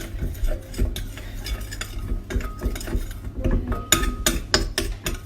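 Lemon juice being mixed into seasoning in a bowl, with irregular scraping, clinking taps against the bowl and quick stirring strokes, close and fairly quiet, louder clatters toward the end.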